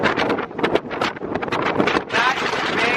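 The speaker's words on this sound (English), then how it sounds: "It's so windy." Strong wind roars and buffets a microphone on the open deck of a free high-speed ferry, a loud continuous rushing with gusts throughout, while people talk underneath.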